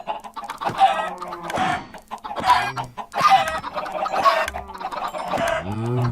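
Several chickens cluck and squawk in quick bursts in a Minecraft modpack, close and fairly loud, with overlapping calls and a brief crow-like cry near the end.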